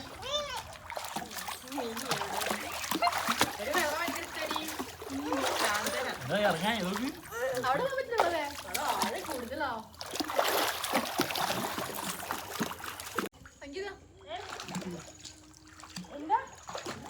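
Water splashes and trickles at a resort swimming pool in Wayanad at night as people climb in, with lively chatter and voices, including a child's, running throughout.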